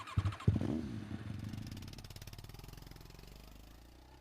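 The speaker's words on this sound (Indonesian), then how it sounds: "saat dia akhirnya menyalakan mesin dan keluar dari perumahan kontrakan di Jakarta" A motorcycle engine starts at night outside rented housing in Jakarta: a quick cranking catch, then a steady rhythmic idle that gradually fades, faint and somewhat distant.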